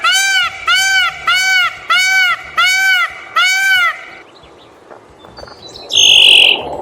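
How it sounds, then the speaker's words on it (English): An Indian peafowl (peacock) gives six loud, evenly spaced honking wails, each note harmonically rich and nasal. A quieter pause follows, then a sharp high squeal near the end. "Bird number 6, peacock,"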